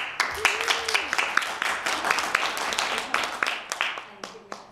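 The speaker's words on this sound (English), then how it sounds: "Let's give Dale a warm round of applause." An audience at a university talk gives applause, sharp individual hand claps building into a fairly busy patter that thins toward the end, with a voice speaking faintly over it.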